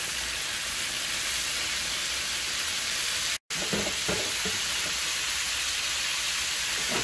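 Conch pieces cook in a hot pot on the stove, giving a steady close hiss and bubbling with a brief dropout midway, followed by a few soft knocks and stirring sounds, no voices.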